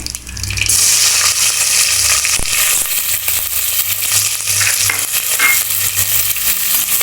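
Chopped onions with a spoonful of cumin frying in hot oil in a pan, a loud steady sizzle with occasional stirring scrapes running throughout, close and without talk.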